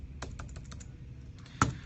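Quiet keystrokes tap on a computer keyboard in a short irregular burst, followed by a pause and one sharper key press near the end.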